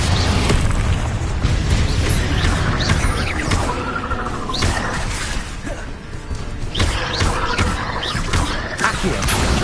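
Confringo fire spells burst in Hogwarts Legacy combat, producing loud repeated booms and crashing impacts amid rumbling battle effects, with a few brief voice sounds mixed in.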